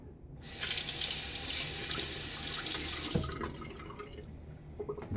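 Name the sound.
razor rinsed under running tap water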